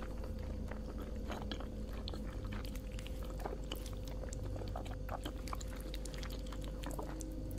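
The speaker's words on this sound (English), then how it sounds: "Chewing in my ears." Close, wet chewing and biting from a character eating in bed in the horror video game Fears to Fathom: Ironbark Lookout, steady mouth noises with small clicks and slurps over a low constant hum, no talking.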